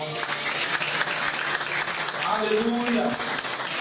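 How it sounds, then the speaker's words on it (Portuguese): A congregation at an evangelical church service claps strongly and continuously, the dense applause running throughout while a voice calls out over it. "Aplauda bem forte o Senhor"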